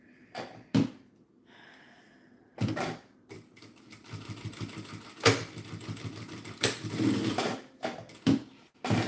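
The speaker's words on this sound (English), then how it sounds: "Stitch that down there." A sewing machine stitches down scrap fabric in short, loud bursts separated by pauses, each run a rapid mechanical rattle up close, with quieter handling noise between runs.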